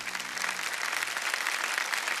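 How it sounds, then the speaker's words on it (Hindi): Steady applause from a studio audience on the quiz show Kaun Banega Crorepati, dense clapping filling the whole stretch at an even level with no voices on top. "तालियां बज जाए इनके लिए"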